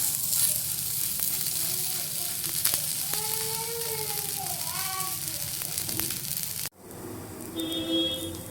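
Potato filling frying on an oiled tawa for aloo chapati rolls: a steady, close hiss and crackle of sizzling oil that runs throughout, cut off abruptly near the end, with children's voices and other household sounds faintly in the background.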